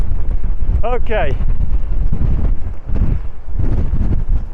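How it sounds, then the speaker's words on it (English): Strong, gusty wind buffets the microphone on an Aberdeenshire hilltop hill fort, a loud continuous low rumble that rises and falls, with a voice speaking briefly over it. "I'd say it's probably approaching strong wind up here, maybe even gale force."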